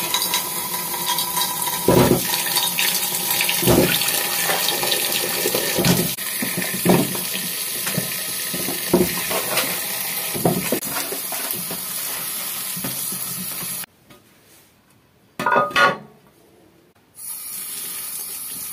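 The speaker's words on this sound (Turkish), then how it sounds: "Hemen çeşmemizi açıyoruz." Tap water runs steadily into a sink while peaches are washed by hand for peach pestil, with occasional splashes and knocks of fruit, cutting off near the end before brief bursts of flow return.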